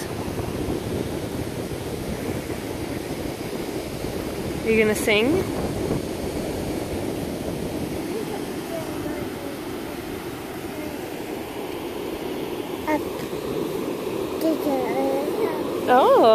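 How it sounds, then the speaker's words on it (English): Ocean waves wash and break steadily on a California beach in a continuous surf roar with a windy rush, while people talk nearby over it. "Look at the waves."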